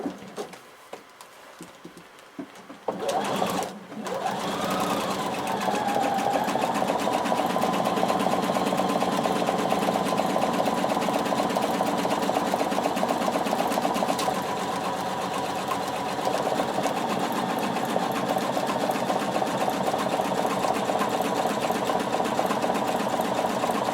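A sewing machine runs in a steady, continuous whir while stitching a buttonhole in reverse on a floor-length duster cardigan, starting after a few seconds of quiet handling, close and alone with no talk.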